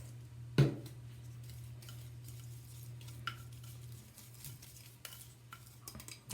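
A brown sugar and baking soda lip scrub is stirred with a utensil, giving soft, faint scraping and clinking with one sharp knock near the start over a low steady hum.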